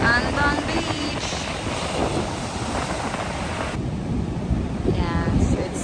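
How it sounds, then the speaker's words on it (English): Steady wind buffets the microphone with a broad roar at Anbang Beach near Hoi An, Vietnam, with a hint of surf and a voice speaking briefly underneath. "so it's windy and that's it"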